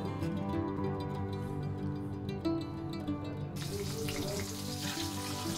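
Boiled eggs, scored with cuts, are dropped one at a time into hot oil and fry with a steady, close sizzle and crackle that brightens and grows busier partway through.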